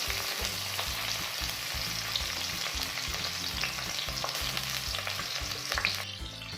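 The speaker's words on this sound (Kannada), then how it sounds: "ಜಿಂಜರ್ ಗಾರ್ಲಿಕ್ ಹತ್ತೆರಡು ಲವಂಗ ಚಕ್ಕೆ ಕೊತ್ತಂಬರಿ ಪುದೀನ ಹಾಕೊಂಡು ಎಲ್ಲ ಸಾಫ್ಟ್ ಆಗೋರ್ಗು ಚೆನ್ನಾಗಿ ಫ್ರೈ ಮಾಡ್ಕೋಬೇಕು" Steady, dense sizzling of onion, ginger, garlic, cloves, cinnamon, coriander and mint frying in hot oil in a kadai for brinjal curry, with faint stirring clicks and no voices.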